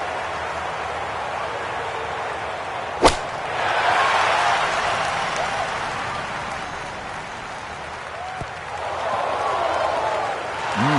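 A golf gallery's muted applause in the PGA Tour 2025 video game, a soft spread of clapping rising after a sharp impact and swelling again near the end, under a commentator's voice.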